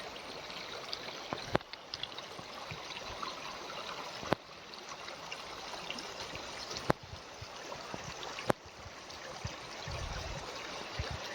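A rainwater stream running down from the hills after heavy rain, a steady moderate rushing flow heard outdoors with a few sharp knocks and bumps along the way.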